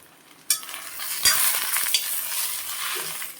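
Taro leaf mash seasoned with salt is stirred and fried in a pan, with a steady sizzle and scraping strokes starting after a brief quiet and running continuously, close and fairly loud.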